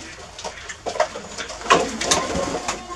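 A pigeon coos softly several times close by, low murmuring calls spread across a few seconds with faint shuffling around it.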